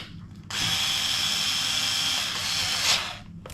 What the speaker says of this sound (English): just going to quickly pop the screws in for that